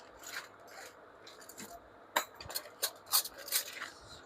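Stainless steel serving spoons are handled close by, making sporadic light metallic clinks, scrapes and taps, with the sharpest clacks clustered toward the end against a quiet background.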